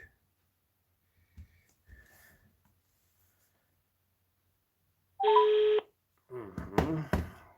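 A telephone number is dialed, a short burst of touch-tone beeps sounding clearly after a few quiet rustles and breaths, followed by a voice speaking briefly.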